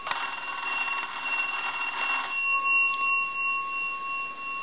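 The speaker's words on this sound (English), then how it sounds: "It's got a really cool bell sound to it." The bell box of a Western Electric Rotary 202 telephone rattles out a loud continuous ring for a couple of seconds, then cuts off into quiet room tone.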